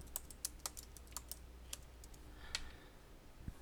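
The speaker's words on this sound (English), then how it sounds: "I'm just going to type in business card." Rapid clicky keystrokes on a computer keyboard, typed in short uneven bursts, close and fairly quiet, with a brief pause before a final tap.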